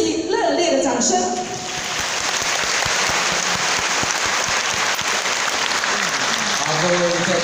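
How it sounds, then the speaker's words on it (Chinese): Warm, sustained applause from an audience in a large hall at a thanksgiving assembly in Taichung, steady dense clapping that fills the whole stretch with no voice over it. "让我们给自己热烈的掌声"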